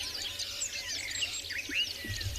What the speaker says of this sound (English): All the birds on a morning like this morning with a lot less wind than yesterday have all sort of announced their presence as well.